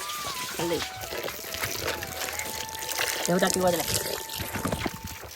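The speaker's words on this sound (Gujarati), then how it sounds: "તો જો પપ્પા પાણી નીકાળે છે" Water is drawn and poured from an old well system in the hills, a trickling, splashing flow heard close by under people talking and a faint steady whistle-like tone.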